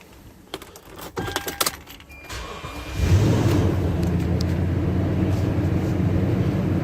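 A Toyota Sequoia engine cranks and catches after a few clicks and clunks, then settles into a steady, close, loud idle rumble that runs without a break.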